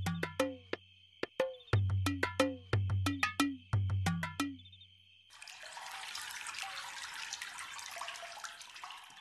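Water pours steadily into a bucket, a loud continuous rushing splash that follows several seconds of sharp dramatic musical stings.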